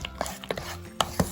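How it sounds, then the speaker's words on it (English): A few scattered clinks and taps of a utensil in a bowl while tzatziki is mixed with olive oil and fresh pepper, close and fairly quiet, with irregular gaps between strikes. "And give it a good mix."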